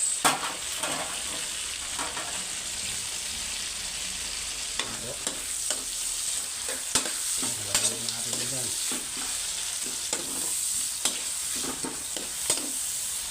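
Garlic and tomato sauté in a hot pan, a steady sizzle running throughout with repeated scraping, clattering stirs of a utensil against the metal, close and fairly loud.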